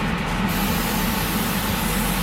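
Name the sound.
aerosol spray painting aluminium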